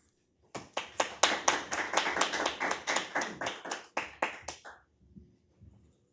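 Applause from a crowd gathered for a brownfields grant check presentation, a bright burst of steady clapping lasting about four seconds before thinning to a few scattered claps, close and alone with no talk.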